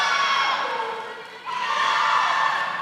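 Crowd cheering and shouting at a college swimming meet, a steady loud roar of voices urging on their team, dipping briefly midway before surging back up.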